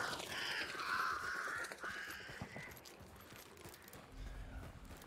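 Crows caw in a video game with a cluster of loud, harsh calls at the start that fade into a quieter ambient background, followed by a low rumble near the end.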